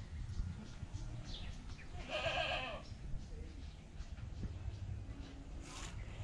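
Goats kept near a rural Vietnamese home bleat once in a short wavering call at moderate distance, with faint outdoor noise and a little talk in the background.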